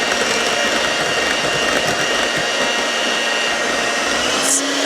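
An electric mixer beating cream cheese for a pumpkin pie, a loud, steady whirring drone that runs unbroken throughout.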